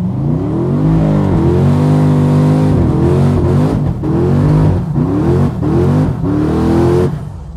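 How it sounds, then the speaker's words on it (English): A turbocharged race car on slick tyres revs hard during a burnout. The engine is loud and close, rising in pitch, dropping back and surging again in about five repeated bursts before it cuts off. "Okay, burnout time."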